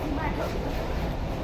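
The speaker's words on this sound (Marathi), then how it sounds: "ही बघा ट्रेन" Train at a railway station near Daman: a steady low rumble and broad station noise runs throughout, with faint, indistinct voices mixed in.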